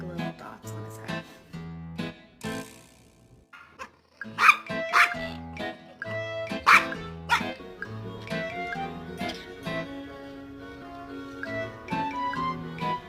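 A dog barking at her own reflection in a mirror, a series of sharp, close barks and yips in irregular bursts, with some talk in between.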